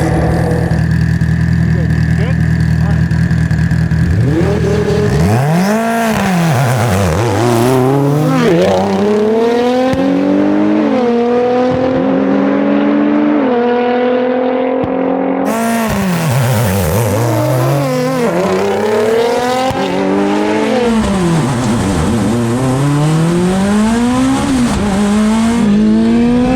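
A 700hp Nissan GT-R and a 675hp Mitsubishi Evo X race each other, loud engines revving hard and climbing through repeated gear shifts with sweeping pitch rises. Tires squeal and a voice talks over the roar.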